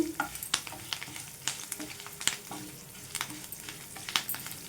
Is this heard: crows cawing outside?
no